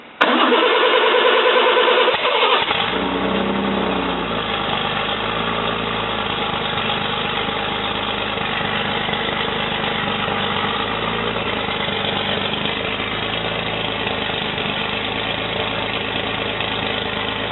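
A cold engine cranks briefly, catches, and settles into a high, fast idle that holds steady with a slight rhythmic lope, close and fairly loud, no voices over it.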